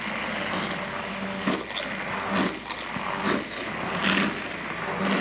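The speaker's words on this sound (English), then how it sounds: "So you're just going to go ahead and mix it." CBD lotion being mixed to emulsify it, a continuous motorized whirring with uneven surges and dips as the mixer works, close and fairly loud with no voices.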